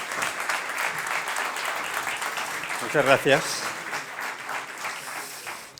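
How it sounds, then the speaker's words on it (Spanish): An audience at a public science talk on protein research applauds with sustained, dense clapping that fills the room, while a man briefly thanks them partway through as the clapping carries on and slowly fades. "un fuerte aplauso para él"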